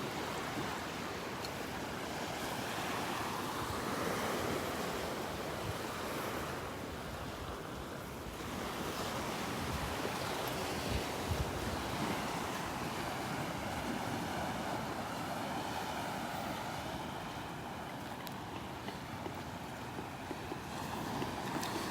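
Surf rolls steadily onto the beach at Delnor-Wiggins on a morning walk, a continuous broadband wash with wind buffeting the microphone and no talking.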